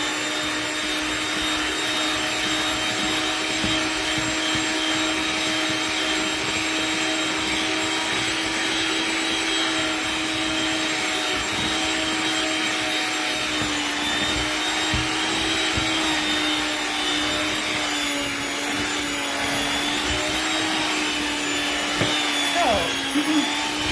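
An electric mixer churns sourdough bread dough with a loud, unbroken motor whir and steady hum that runs the whole time, with faint voices occasionally beneath it.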